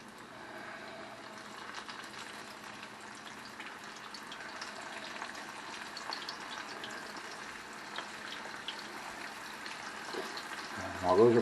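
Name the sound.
battered flounder pieces deep frying in oil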